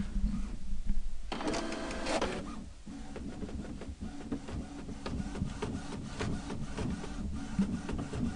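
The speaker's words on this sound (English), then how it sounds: "Put the mic by the printer so you can hear it." A Lexmark X5690 printer works through a copy up close, with a loud mechanical whir and rattling paper feed followed by steady quieter rhythmic clicking and grinding.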